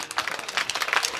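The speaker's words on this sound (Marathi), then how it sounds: "हा सुंदर अशा प्रकारे टाळी वाजा सगळ्यांनी" An audience at a Marathi kirtan claps together, a dense, even stream of many hands with slight rhythmic surges, moderately loud and sustained.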